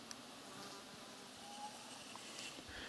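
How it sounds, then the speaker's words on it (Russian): Swarm of wasps buzzing around an artificial watering hole dug in a forest, a steady faint insect drone with outdoor ambience and no talking. "Все в осах."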